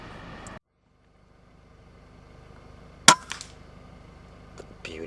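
Single sharp crack of a Weihrauch HW100KT air rifle firing at a rabbit about 30 metres away outdoors, a loud isolated report after near silence, followed by brief fainter knocks and rustles.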